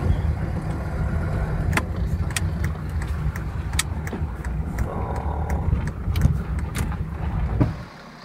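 A car driving along with steady, close engine and road rumble, occasional small clicks and knocks, the noise dropping away abruptly at the end as the car comes to rest.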